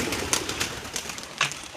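Domestic pigeons being let out of their loft to fly, with soft cooing and two short fluttering bursts over a steady outdoor background.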